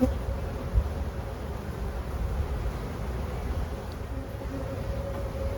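Honeybees hum around a hive being inspected, a continuous dense drone that stays even throughout, with faint voices underneath.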